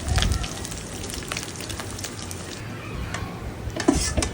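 Shrimp frying in oil without salt gives a dense, steady crackle and sizzle throughout, with sharper pops scattered in, close and moderately loud.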